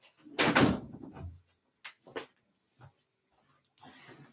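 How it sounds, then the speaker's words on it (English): A bedroom door is shut nearby, giving a soft thud followed by a few light clicks and knocks as it settles, with quiet room tone between them. "Let me shut my door."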